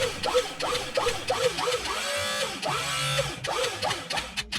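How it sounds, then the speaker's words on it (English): A homemade 12-volt hydraulic press built from an old digger cylinder pushes through a piece of old curtain rail, producing a loud, close, rhythmic whirring and grinding mechanical sound that rises and falls in repeated cycles. "This press, by the way, is a 12-volt hydraulic press, which I built out of a old hydraulic cylinder from a digger."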